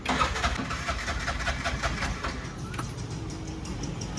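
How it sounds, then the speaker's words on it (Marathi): A Bajaj RE BS6 auto rickshaw on CNG mode cranks and sputters without catching: a steady rough engine-starting churn with rhythmic pulses, fairly close, then fading to a low rumble. "सी एन जी मोडवर रिक्षा चालू होत नाही आहे"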